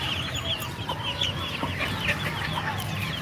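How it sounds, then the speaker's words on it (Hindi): A rooster kept caged at a home farm clucks in short repeated bursts, moderately near, over a low steady background hum. "इसको हमने कैद किया हुआ है क्योंकि बहुत बदमाश मुर्गा है ये"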